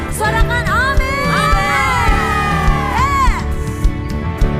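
A church congregation at an Indonesian worship service breaks into a few seconds of loud cheering and shouting. Voices whoop and yell together in a swelling crowd roar.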